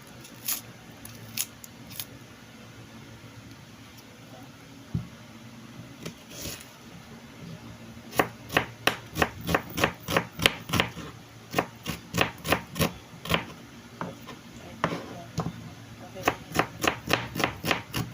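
An onion is sliced on a board for a home-made breakfast, producing a long series of sharp, close knife chops in rapid bursts with short pauses, after quieter room sounds at the start.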